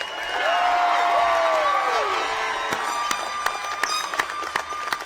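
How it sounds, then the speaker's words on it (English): A large outdoor-style commencement crowd at Allan Hancock College's 2017 graduation bursts into loud applause with rising whoops and cheers, dense clapping sustained throughout, sharp individual claps and shouts poking out as the ovation continues. "Let's give them one more loud round of applause"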